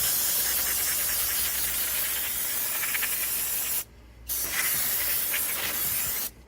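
Cleaner is sprayed onto a suspension arm removed during a clutch replacement on a 2010 Mini Cooper: a continuous broadband spray hisses close by, pausing briefly once midway before resuming, then cutting off again at the end.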